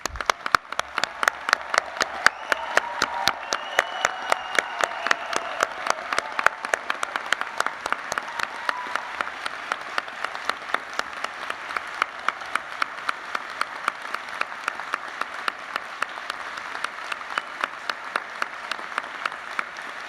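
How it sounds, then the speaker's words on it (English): An audience applauds nursing and health graduates at a university graduation ceremony with sustained applause for twenty seconds, while one close clapper keeps a fast, even rhythm over the broad, dense wash of clapping. "I invite you to share your appreciation for their achievement by applauding their efforts"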